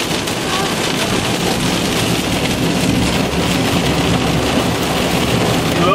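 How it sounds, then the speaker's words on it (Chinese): Heavy rain pours steadily in a desert storm, a dense continuous roar close by with a low rumble that may be thunder, and voices faintly under it. "台湾才能下这么大雨"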